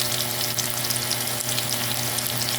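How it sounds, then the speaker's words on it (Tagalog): Steady, crackling sizzle of tofu frying in hot oil, continuous and close, with no voices. "I-prito natin ng konti."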